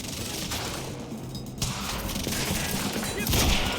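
Dense game gunfire in Quantum Break, a continuous loud clatter of shots and impacts filling the whole stretch with no pauses, no voices standing out.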